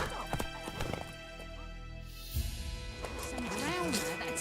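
Roach the horse in The Witcher 3 game, hooves clip-clopping in quick rhythm with a loud neigh near the end, heard under a man's speech and game ambience.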